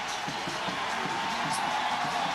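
A crowd cheers and whoops at the finish of a fitness competition final, a steady, broad wash of noise at moderate distance with a commentator's voice over it.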